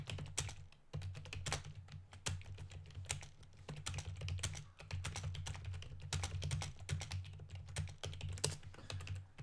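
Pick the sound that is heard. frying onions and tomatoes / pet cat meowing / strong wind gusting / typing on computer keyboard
typing on computer keyboard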